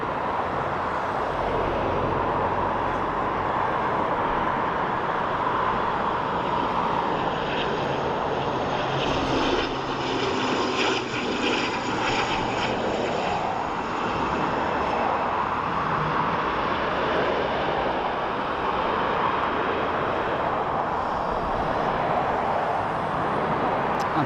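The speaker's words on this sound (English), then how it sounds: "So this is our ATR 72-600" An ATR 72-600 turboprop at Dublin Airport gives a steady, loud engine and propeller drone that holds evenly and close throughout, with no voices.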